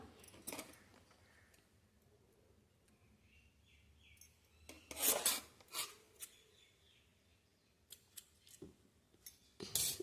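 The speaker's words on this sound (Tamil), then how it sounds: "இப்போ பேக் சைடில் இதை கட் பண்ணிக்கலாம்." Scissors cutting the back of blouse fabric, close crisp snips in short bursts with quiet pauses, louder clusters in the middle and at the end.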